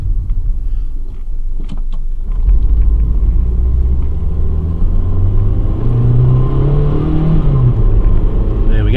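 A Mazda 626 engine with a misfire runs close by, a loud uneven rumble that rises as it revs, with brief clicks early on.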